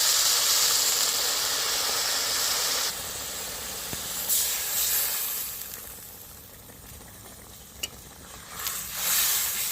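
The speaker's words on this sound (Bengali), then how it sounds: "মাংসটা দিয়ে আমি বেশ কিছুক্ষণ কষে নিয়েছি, এবার আমি জলটা দিয়ে দেব।" Water poured into a pan of browned, sizzling meat for a thick Bengali curry sets off a loud steaming hiss that gradually settles into a softer, steady sizzle, with no talking.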